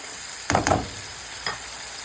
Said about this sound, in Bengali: তারপর আবারও এটাকে আমি কষিয়ে নিব।